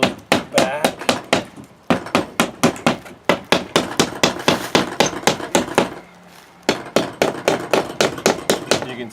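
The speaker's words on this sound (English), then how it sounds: "We'll pound those back." Hammer pounding rusted staples back into a wooden shed door, a rapid series of sharp, loud close strikes in bursts with a brief pause before the blows resume.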